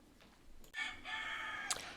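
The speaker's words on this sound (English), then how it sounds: "And you heard the rooster." A rooster crows once, a drawn-out cock-a-doodle-doo of moderate loudness, with a faint background hum and no talking.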